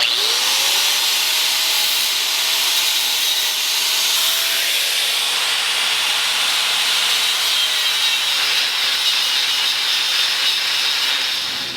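An angle grinder fitted with a thin wheel grinds out weld porosity on a fabricated upper control arm, a continuous loud high-pitched hiss and whine of the wheel biting into steel, sustained the whole time.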